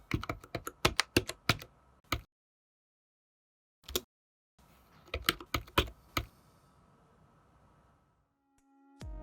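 Typing on a full-size Commodore 64 keyboard, with bursts of crisp, close keystrokes in quick uneven runs, broken by a silent pause, then more clattering keys and a faint tone near the end.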